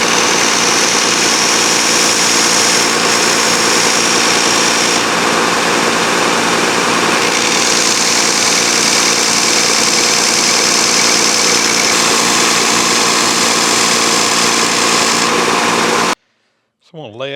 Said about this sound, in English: Got my Porter cable belt sander here. We're going to sand these right to the line.